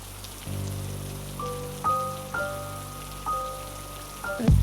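Steady rain pours down in a continuous wash of hiss, with a low sustained drone and a few soft tones underneath.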